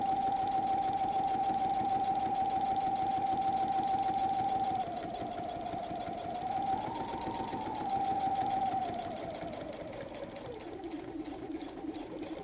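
A sewing machine runs steadily while stitching a messenger bag, a close, continuous motor whir that slows and shifts pitch near the end as it backstitches.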